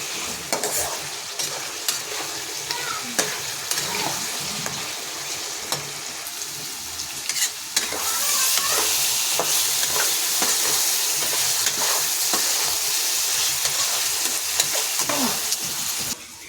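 Crab curry stir-fried in a pan Bengali style, a steady loud sizzle with repeated scraping and stirring strokes of a spatula, the frying growing denser and hissier partway through.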